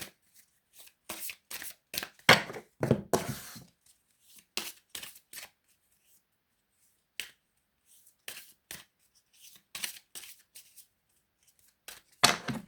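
Tarot cards shuffled by hand in quick, irregular bursts of riffling and slapping, close and crisp, with short pauses between rounds and no talking.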